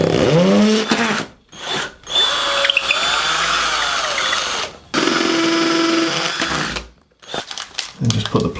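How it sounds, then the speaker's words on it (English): A power drill drills holes into a wall for wall plugs, whining in several bursts, its pitch rising as it spins up and bites in, with short pauses between each hole. "Then I'm just going to drill these holes out."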